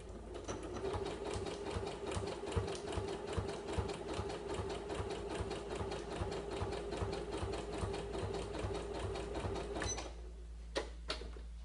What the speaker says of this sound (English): I'm going to choose a simple zigzag stitch on my machine and I'm just going to start to work my way around